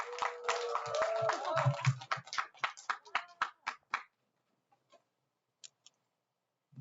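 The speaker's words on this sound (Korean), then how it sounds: "박수, 큰 박수" An audience at a final project presentation claps briefly, a dense burst that thins into a few scattered, distinct claps and then stops, followed by near silence with a couple of faint knocks.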